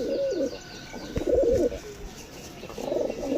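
Rampuri, Najra Kaldum and Kashmaduma pigeons coo close by in three throaty, rolling bursts separated by brief pauses, with soft rustling between them.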